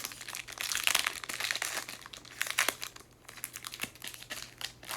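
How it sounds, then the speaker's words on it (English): Pokémon card pack wrapper torn open and crinkled up close, with irregular bursts of crisp plastic crackling and rustling and no talk. "let's open some cards"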